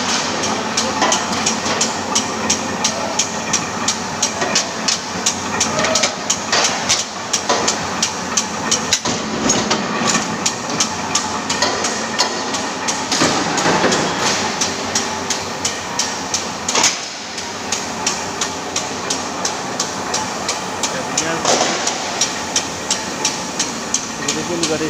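A CNC machine in a workshop cuts aluminium scaffolding parts, giving a continuous metallic grinding din with repeated sharp knocks and clatters, while people talk intermittently over it.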